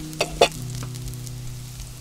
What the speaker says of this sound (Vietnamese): Khi tỏi vàng mình cho thịt vịt vào xào.